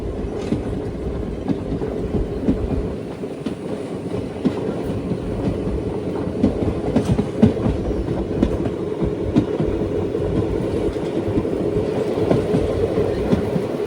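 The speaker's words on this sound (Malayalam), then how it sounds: "വിരുദുനഗർ റെയിൽവേ സ്റ്റേഷനിലേക്ക് എത്തിക്കൊണ്ടിരിക്കുകയാണ്." The Chennai Egmore Express rolls into Virudhunagar Junction with a continuous, steady rumble and a rhythmic clickety-clack of wheels over rail joints, heard from on board without speech.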